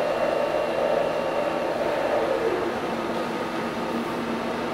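A blender runs at low speed, mixing a whey protein smoothie with a steady whirring drone that drops slightly in pitch partway through and continues evenly.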